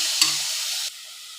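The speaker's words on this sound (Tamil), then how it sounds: "இப்போ அரைச்ச தக்காளி விழுது சேர்த்துக்கலாங்க. இதையும் நல்லா சேர்த்து வதக்கி" Ground tomato paste sautéing for vegetable biryani gives a steady close sizzle, with a brief clatter of a spoon stirring near the start before the frying hiss drops to a quieter level.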